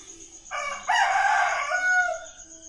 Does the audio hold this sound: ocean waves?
no